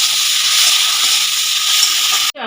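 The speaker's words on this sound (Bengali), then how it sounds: "এবার তেজপাতাটা ফোড়নে দিয়ে দিলাম, শুকনো লঙ্কাটাও দিয়ে দিলাম" Bay leaf and dried red chillies dropped into hot oil for tempering give a loud, steady hiss of sizzling that fills the whole stretch, then cuts off abruptly near the end.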